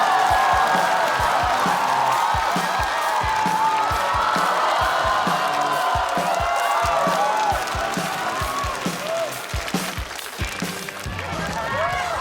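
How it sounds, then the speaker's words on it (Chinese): A live crowd at a Chinese stand-up comedy show applauds and cheers as the next comedian is welcomed to the stage, a dense, steady wash of clapping with whoops that fades slightly near the end. "那我们掌声有请"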